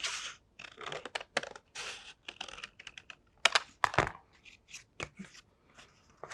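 Scissors snipping through concertina-folded paper while shaping a palm leaf, a run of short crisp cuts and crunches in an irregular rhythm, close and fairly quiet, with no talking.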